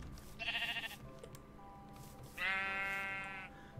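Two bursts of Minecraft sheep bleating, one early and one later, with a steady low hum running underneath.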